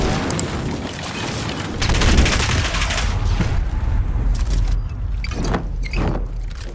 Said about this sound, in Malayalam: വെടി വെച്ച് പൊളിച്ച് കേട്ടോ